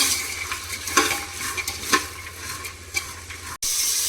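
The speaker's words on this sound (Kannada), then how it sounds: "ಇವಾಗ ಒಗ್ಗರಣೆಯಲ್ಲಿ ಕಾಳನ್ನೆಲ್ಲ ಚೆನ್ನಾಗಿ ಫ್ರೈ ಮಾಡ್ಕೊತಾ ಇದ್ದೀನಿ" Peas and chickpeas fry in an oil tempering while a spoon stirs them, giving a steady close sizzle broken by a few sharp scrapes against the pan, with no one talking.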